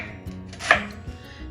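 A knife cuts through cabbage on a cutting board, giving a few quick chopping knocks with one sharp crisp cut in the middle, close and clear.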